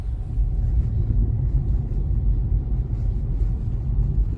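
A car drives along the road in a low, steady interior rumble of engine and tyres, heard continuously and close, with no talking.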